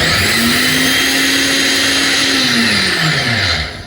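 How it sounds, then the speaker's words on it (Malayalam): A mixer grinder runs loudly and steadily, grinding coconut paste with cumin for a Kerala-style jackfruit erissery, a continuous motor whine that holds even, then slows and winds down near the end. "ഒരു നുള്ളു ജീരകം കൂടി ഇട്ടിട്ട് അരയ്ക്കണം കേട്ടോ ഒന്ന് അരച്ചെടുക്കേ വേണ്ടു"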